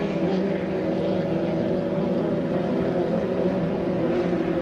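A 2.5-litre racing boat engine roars steadily at high power during a heat race, a continuous loud drone with no pauses.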